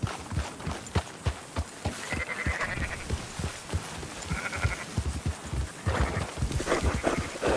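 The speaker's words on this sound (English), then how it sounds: "Marston, why don't you leave the sheep to me?" Sheep bleating in the video game Red Dead Redemption 2 while a flock is rounded up, with repeated overlapping bleats throughout and a busy background of hoofbeat-like thumps and game ambience.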